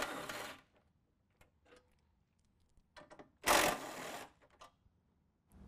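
A power tool spins out 15 mm bolts from a front bumper bracket on a 2017 Chevy Silverado, in two short, loud bursts separated by quiet pauses and faint clicks.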